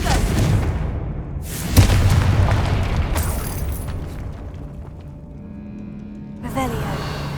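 Confringo blasting spell exploding in Hogwarts Legacy: a booming blast, with another burst toward the end, over a steady game soundscape and a voice talking.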